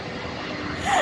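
An EasyJet airliner comes in to land at an airport, a broad rushing engine roar heard from nearby that swells louder toward the end.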